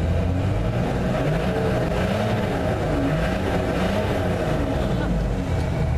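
Six-cylinder engine of a Nissan Patrol Y60 off-roader revving, heard from inside the cab with the window closed; a loud, steady low rumble fills the cabin throughout with no break.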